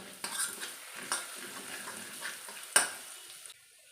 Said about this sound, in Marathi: पाव चमचा हळद, अर्धा चमचा धनिया पावडर परतून घेऊया